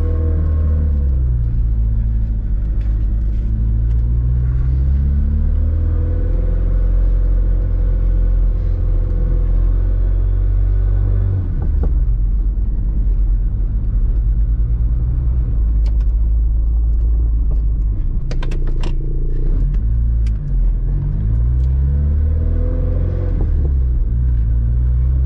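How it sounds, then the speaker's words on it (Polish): A 1975 Lancia Beta Spider sports car engine runs loud and close, revving and pulling away, with steady low rumble and rising, falling engine pitch through gear changes; a few brief clicks come near the end. "I ruszamy na przejażdżkę."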